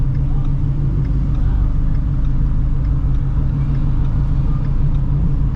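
A straight-piped Shelby GT350 Mustang cruises through city streets, heard from inside as a loud, steady, deep engine drone and road rumble that stays constant without revs or pauses.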